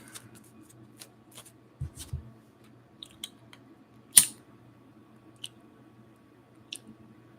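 Tarot cards being reshuffled give faint, sparse papery flicks and soft taps in a quiet room, with one sharper snap midway.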